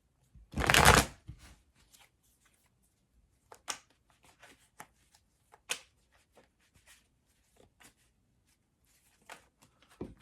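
Tarot cards being shuffled in one loud riffle at the start, followed by a scatter of faint, sparse taps and card handling in a quiet room.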